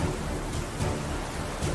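Heavy rain in a storm at sea, lashing a ship's crew with rain and hail, as a dense, unbroken wash of hiss and low rumble.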